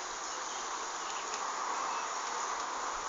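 Bees buzz in a dense, continuous drone at a hive in Madingley, a close, steady hum heard alone with no talking.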